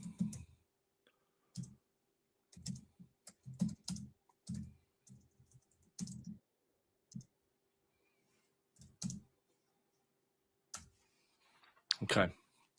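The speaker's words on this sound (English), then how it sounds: "Just typing something out." Computer keyboard typing comes in short irregular bursts of clicks separated by pauses, close and fairly quiet, during a live match commentary stream.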